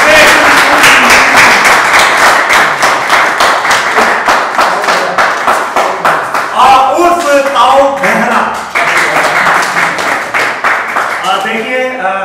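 A crowd at a 2019 music audition show gives loud applause to welcome a regional comedian actor, with rhythmic clapping that becomes ragged in the middle, and a few voices and cheers mixed in.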